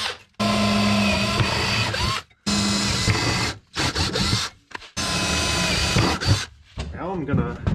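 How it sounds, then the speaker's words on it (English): A power drill bores pilot holes in a pickup truck bed in several long bursts separated by short pauses, close and loud, with brief clicks and handling noises between runs. "now drill 4 pilot holes"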